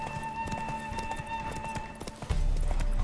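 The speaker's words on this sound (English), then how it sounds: "I forgot horse races were a thing in this game." Horse hooves clip-clop in a rapid galloping rhythm during a horse race in The Witcher 3 video game, loud and steady, with a heavier thud and rumble near the end.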